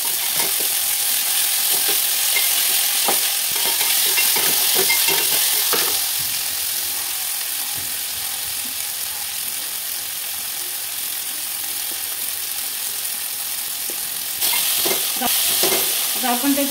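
Onions and tomato sizzle in a pan for Marathi-style masala rice while a spoon scrapes and stirs repeatedly, a steady close frying hiss punctuated by rhythmic clinking strokes.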